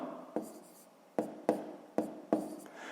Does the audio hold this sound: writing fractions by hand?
yes